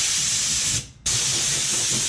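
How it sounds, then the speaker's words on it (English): Compressed-air gun blasting dust off the floor pan of a 1970 Plymouth 'Cuda under rebuild, a loud, steady close hiss that cuts out briefly for a moment before starting again. "just get my air gun, just blow everything off"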